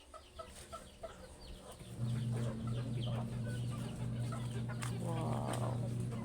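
Chickens cluck outdoors around a tamarind plant whose leaves they eat: short, scattered clucks and calls over a steady low hum that starts partway through and continues to the end.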